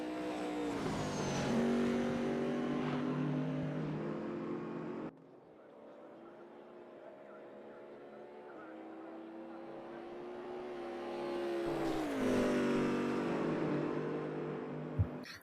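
A Corvette Z06R GT3 race car engine at Road America in RaceRoom, revving loud and climbing, cutting abruptly to a quieter cabin drone, then building through another hard acceleration and shift.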